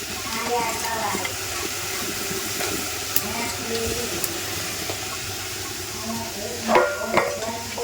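Dried puti fish sizzles and hisses as it fries in a thick spice paste, a steady, moderately loud frying noise with stirring, a voice talking over it and a couple of sharper spits near the end.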